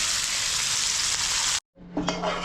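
A piece of fish fries in a pan with a steady, loud sizzle that cuts out abruptly, then quieter frying resumes with a brief scrape or tap.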